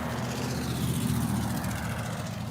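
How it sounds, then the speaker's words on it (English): Car engines approaching from behind outside a house make a steady, loud, droning rumble with a low, throbbing hum that holds constant throughout, with no talk. "I think these engine sounds coming behind me are about to stop."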